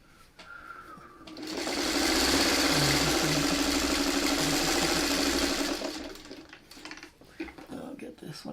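Sewing machine stitches a plaid quilt block in one steady run of rapid close mechanical whirring lasting about four seconds, with softer handling clicks before and after and speech nearby.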